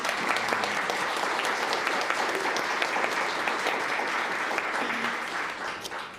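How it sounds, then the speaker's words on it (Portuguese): Steady, dense applause fills a Senate public hearing room, continuous clapping from an audience that holds strong before easing slightly at the very end. "Batam palmas para esse cara que ele merece."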